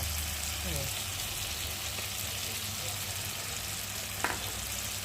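Tomato and Maggi masala fry in a pan as a steady, even sizzle that runs throughout, with a brief clatter near the end.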